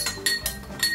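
A metal spoon clinks against a glass or bowl while stirring in salt, four or five bright, close chimes spaced irregularly across a second, with no talk.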